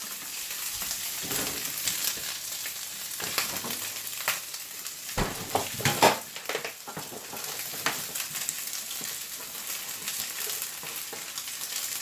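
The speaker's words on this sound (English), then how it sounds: "not cook these sausages quite as long as I probably normally would" Sausages fry in a pan in Odda, Norway, giving a steady, close sizzle with scattered crackles and pops. A few louder spatters rise midway, and no one speaks.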